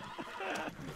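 A horse whinnies shortly after crashing into someone in a video game, a single faint, strained neigh lasting under a second.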